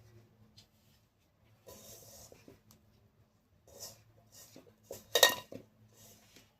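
A utensil scrapes and clinks against a metal bowl while thekua dough of jaggery and sugar is mixed, quiet intermittent rubbing strokes building to a sharper clatter near the end, close up.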